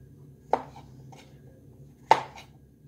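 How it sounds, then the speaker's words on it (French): A kitchen knife quartering mushrooms on a board: two distinct, crisp chops about a second and a half apart, close and clear over a quiet background. "Je découpe en quatre mes champignons."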